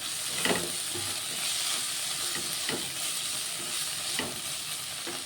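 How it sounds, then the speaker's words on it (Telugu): Chopped tomato frying in a pan for a wheat-flour breakfast dish, a steady broad sizzle with a few brief stirring scrapes, close and alone without talk. "ఇప్పుడు ఇందులో కట్ చేసుకున్న టమాటా వేసుకుంటున్నాను"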